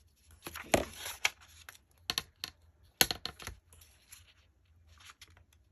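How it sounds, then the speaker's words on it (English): Paper torn by hand in a series of short, sharp rips and crinkles, some bursts louder than others, close up with no talking, as pockets are made from long envelopes and guest check paper. "some people like the sound of ripping paper, some do not."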